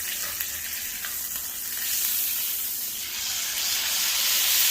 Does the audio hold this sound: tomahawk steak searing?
yes